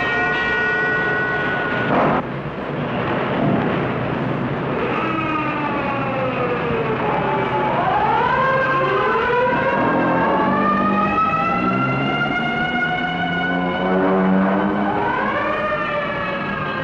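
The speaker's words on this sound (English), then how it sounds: "the banshee wail of the siren echoes the warning" A civil-defense warning siren wails over a city, its pitch rising and falling in long, sweeping tones. A sharp break comes early, then the loud, echoing wail continues on its own with overlapping harmonics.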